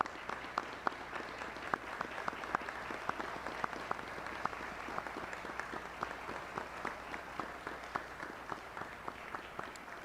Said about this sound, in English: please join me one more time in a round of applause for each one of these new promotees